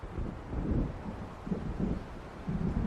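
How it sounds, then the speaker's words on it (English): Low, rolling rumbles of an approaching thunderstorm in Alan Wake come in soft repeated swells under a gusty, windy background, fairly faint and distant. "It seems there's a storm coming."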